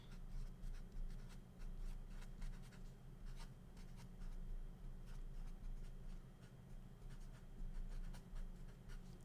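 A pen scratches steadily across a writing surface in quick, short strokes, faint and close over a constant low background hum.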